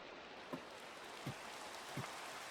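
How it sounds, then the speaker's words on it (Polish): Steady soft rain hiss in a video game, with a few dull drips landing at intervals, even and continuous throughout. "Pada no deszcz."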